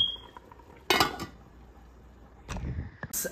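A metal lid set on a pot of beef kaldereta, sharp clanks and clinks in two clusters, one near the start and another later, with faint kitchen noise between.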